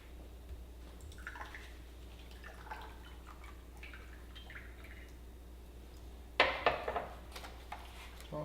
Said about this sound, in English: So I'm choosing to pour some over the teapot.